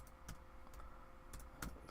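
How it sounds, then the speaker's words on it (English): Keys tapped on a computer keyboard while a checklist item is entered: several quiet, irregular clicks spread over two seconds, close by with no talking. "you just type in whatever you want to type in, hit enter"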